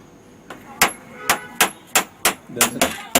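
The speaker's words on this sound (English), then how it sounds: "we hammer each one of the notices onto the doors of the houses" Hammer blows drive notices onto the doors of houses, about seven sharp metallic strikes at a steady, slightly quickening pace, close and loud over a faint background.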